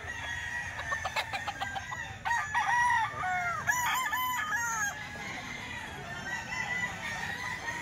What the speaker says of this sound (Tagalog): Bagong manok dito mga bossing.